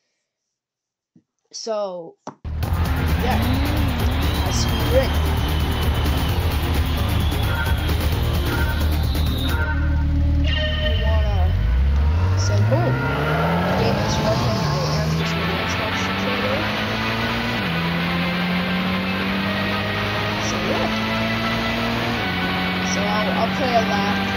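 Racing car engines from the PlayStation game Gran Turismo, running on the ePSXe emulator, rev with rising and falling pitch over a dense, loud, continuous game soundtrack, with several separate upward sweeps as cars accelerate.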